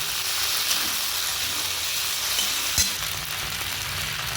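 Soya chunks are stir-fried in a pan on high flame, giving a loud, dense, continuous sizzle with a faint scrape of stirring and one brief knock.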